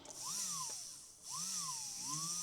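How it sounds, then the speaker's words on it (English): A small rotary abrasive wheel grinding the bezel edge of a handmade sterling silver ring, a steady high whine that swoops up and down in pitch as it bites and eases off, heard close and alone. "just clean this bezel edge up, get rid of all those hammer marks"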